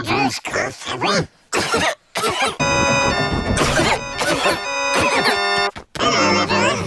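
Cartoon-style cough sound effects from a Peppa Pig episode, a burst of repeated coughs in short bursts amid chaotic, garbled effect-processed voices and tonal zings, loud and close.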